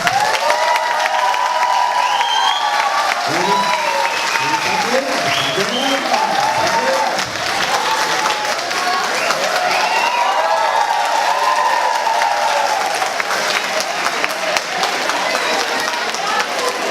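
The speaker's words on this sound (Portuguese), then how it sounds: "Uma salva de palmas." A seminar audience of teachers and professors applauds at an academic event, sustained loud clapping from a crowd with scattered cheers, while a voice talks over it.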